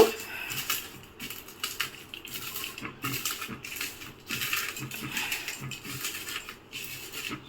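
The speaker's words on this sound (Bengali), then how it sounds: "শুকনো লঙ্কাটা আমি শুকনো তেলে নিয়েছিলাম সেটা এখন লবণের সাথে ভালো করে আমি গুঁড়ো করে নেব" Dry-fried red chillies being ground with salt by hand, producing a close, uneven series of crunching, scraping and tapping sounds for a jackfruit seed bharta.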